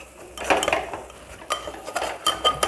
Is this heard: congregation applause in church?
no